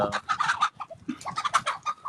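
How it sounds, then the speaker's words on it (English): Chickens cluck in rapid, nasal bursts close by, several birds calling over one another in quick succession. "Sorry, all my chickens are now flying."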